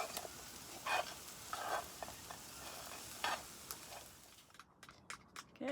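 Bacon and eggs fry in a pan on a wood stove inside a winter camping hot tent, giving a steady close sizzle with occasional brief stirring scrapes and clinks, no voices.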